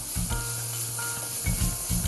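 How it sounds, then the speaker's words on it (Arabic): Vegetables sizzle steadily in hot oil during cooking for vegetable sambusak, a close, continuous frying hiss with a few soft stirring bumps underneath and no voices. "صوت الزيت الحامي مع حيالله مادة بتنحط عليه إن كانت خضرة أو بروتيين،"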